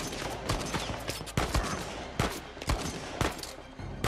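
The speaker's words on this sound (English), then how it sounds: "I'm basically sniping him from here." Uncharted 4 gunfight with a semi-automatic rifle used for sniping, several sharp, loud shots spaced irregularly over a few seconds, each with a booming low tail over a busy game background.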